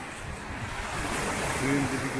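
Waves breaking on a Black Sea beach at Kefken, a broad, steady roar of surf with wind noise on the microphone, loud and close, while a person talks over it.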